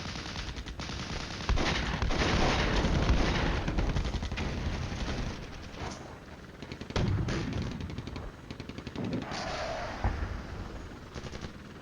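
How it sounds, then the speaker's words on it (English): Artillery and heavy gunfire in the Cold War wargame Flashpoint Campaigns, a dense, loud, continuous barrage of bangs and rattling fire with a few sharper blasts rising out of the roar. "now I might place consistent bombardments"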